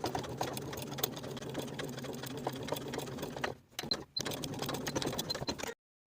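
Sewing machine top stitching along a coat pocket flap seam, a rapid steady mechanical whirr that stops briefly, resumes, then cuts off to silence near the end.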